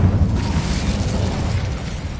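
An Incendio fire spell is cast in the Hogwarts Legacy video game, producing a loud, continuous roaring burst of flame that holds steady for about two seconds.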